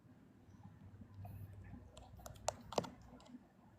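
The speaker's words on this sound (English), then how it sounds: "I'm typing in here" Soft, quiet keystrokes and clicks from a computer keyboard tap irregularly, with a couple of sharper clacks near the end against a low background hum.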